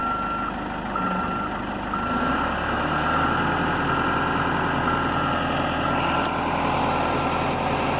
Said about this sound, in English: I had to get in the truck and back it up